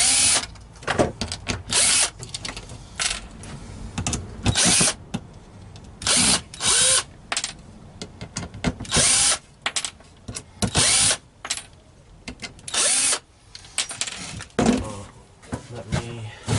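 Cordless power drill backing screws out of a wooden board, whirring in repeated short bursts of a second or so with brief pauses between them, close and loud, with occasional clunks of handling.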